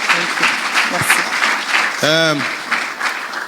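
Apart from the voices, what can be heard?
church congregation applauding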